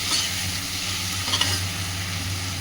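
Mustard, poppy seeds, green chilli and cashews being sautéed in oil for a Bengali tel koi dish give a steady close sizzle with soft stirring scrapes, an even frying hiss throughout.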